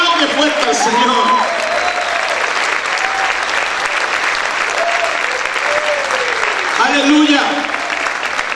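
Church congregation clapping loudly and steadily throughout, a broad wash of applause with scattered voices and cheers mixed in, swelling again near the end.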